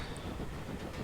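A USATC S160 steam locomotive running in Train Simulator 2018 on the West Somerset Railway, with a steady, fairly quiet rolling rail rumble and faint clatter throughout the brief moment.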